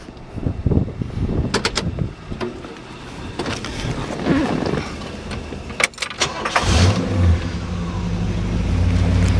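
A 1965 Ford Galaxie 500 convertible engine cranks with sharp clicks and starter bursts, catches at about seven seconds and settles into a steady, close, loud idle that continues to the end.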